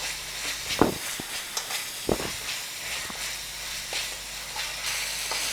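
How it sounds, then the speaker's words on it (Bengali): Ginger garlic paste and spices stirred and fried in a pan for Bengali egg korma curry, giving a steady soft sizzle and hiss with a couple of brief louder scrapes, no talking. "এবার এটাও নাড়তে থাকবো। একটু একটু মশলাটা কষিয়ে নিতে হবে"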